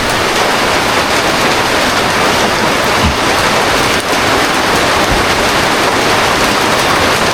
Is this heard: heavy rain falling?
yes